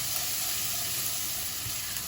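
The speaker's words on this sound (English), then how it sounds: "just going to add our garlic now. I have 2 cloves of garlic in there. Let's get it well sauteed." Two cloves of garlic sizzle in a hot pan for katsu chicken curry, a steady close frying hiss with no talking.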